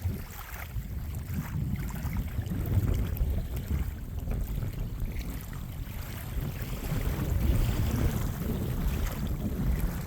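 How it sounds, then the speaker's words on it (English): Small waves lap steadily at the shore of a reservoir as a breeze rumbles across the microphone, with foliage rustling nearby in autumn, soft and continuous with no voices. "the soothing sounds of the waves, the breeze, and that foliage"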